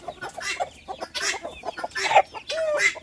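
Native-breed roosters cluck and call in short bursts, close and fairly loud, with a few sharper cries near the end.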